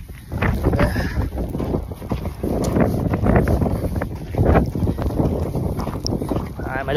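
Strong, gusting wind during bad weather buffets the microphone outdoors in a loud continuous roar, with a voice talking faintly beneath the rumble.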